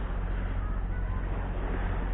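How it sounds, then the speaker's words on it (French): A sailboat motoring on calm Mediterranean sea with sails down gives a steady, loud low engine drone mixed with broadband hiss of wind and water, continuous and unchanging. "donc on est au moteur, j'ai même pas mis les voiles"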